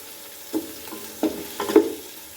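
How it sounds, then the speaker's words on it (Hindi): Soft scraping of a spoon stirring tomatoes in a pot, several irregular strokes over a faint, quiet sizzle of frying. "इसको अच्छी तरह से भून लूँगी।"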